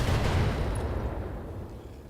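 A single heavy PPC energy-weapon shot from a mech in the Thorium Mercs game, one deep booming blast that rolls off and fades over two seconds.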